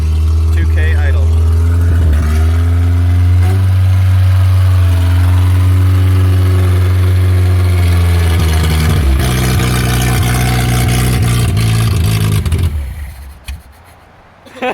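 A Ford Festiva rally car engine idles loudly and steadily up close with a rough, low drone, running on a suspect cylinder, before cutting out near the end.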